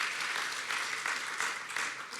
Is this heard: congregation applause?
yes